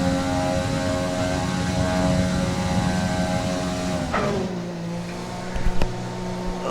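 Formula 1 race car engine in the F1 2020 video game at the Montreal Grand Prix, a loud, steady high-pitched drone that drops in pitch about halfway through, as if lifting off or downshifting.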